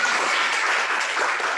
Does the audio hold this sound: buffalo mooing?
no